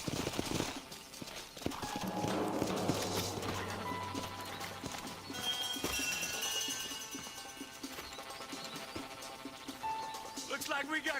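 Horses trot with a steady clip-clop of hooves in Red Dead Redemption, close and moderately loud, with a brief whinny and game music playing underneath.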